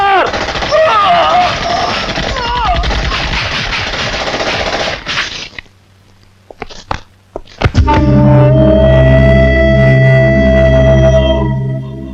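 A rapid burst of loud gunfire in a Tamil action film scene over tense music, followed by a few sharp shots, then a sustained low droning score swells in.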